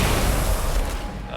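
Flashbang explosion in the video game Alan Wake Remastered: a loud, sustained low boom with dense rumble that fills the moment and slowly decays.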